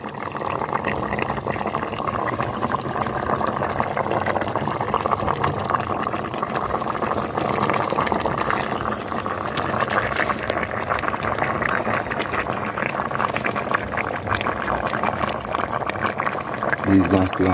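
Fish simmers in pomegranate sauce in a pan in a Jamaican home kitchen. A steady bubbling, sizzling hiss runs throughout, with someone talking over it.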